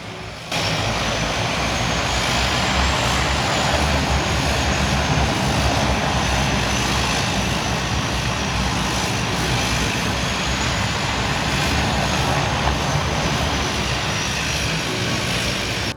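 Loud, continuous roar of a Twin Otter propeller aircraft engine at high power in reverse thrust, steady throughout with a faint rising and falling whine.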